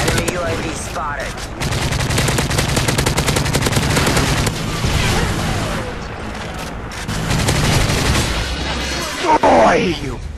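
Rapid gunfire in a first-person shooter game, bursts of closely spaced shots running for several seconds at a time, with pauses, a heavier boom near the end, and game voices underneath.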